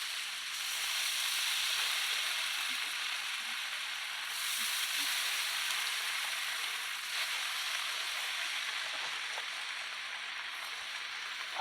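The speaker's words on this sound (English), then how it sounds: "So let's add our breakfast strips. Did you hear that sizzle?" Breakfast strips sizzle on a 20-inch Mainstays griddle, giving a steady, bright frying hiss that stays even throughout, close and moderately loud, with faint pops and no speech.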